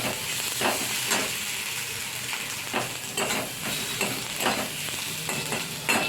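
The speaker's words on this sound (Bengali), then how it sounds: "লাল লঙ্কার গুঁড়ো রঙটা হওয়ার জন্য ভালো করে মশলাটা কষে নিতে হবে।" Spice masala with red chili powder fries in a pan over a medium gas flame, a steady sizzle broken by regular scraping stirs roughly every half second, close and moderately loud with no talking.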